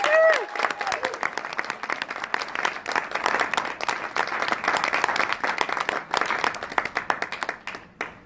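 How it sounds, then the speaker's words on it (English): Applause from a comedy club audience at a debut stand-up show, a dense, steady patter of many hands clapping close by for about eight seconds with some crowd noise mixed in. "give us a round of applause"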